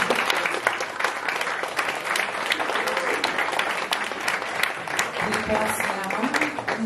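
Applause rises from a concert audience at the closing concert of a master class, a lively, continuous clatter of many hands while a voice talks over it.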